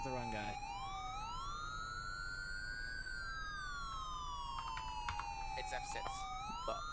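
Police car sirens in the video game GTA 5 roleplay, wailing and sweeping up and down in pitch, several overlapping, with a brief tone shift near the start and faint game noise underneath.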